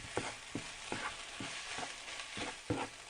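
Boiled vegetable samosa stuffing dry-fried in a pan without oil, a run of quiet rhythmic scraping stirs at roughly one stroke every half second over a faint background.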